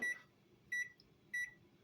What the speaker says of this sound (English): that timer goes for 7 minutes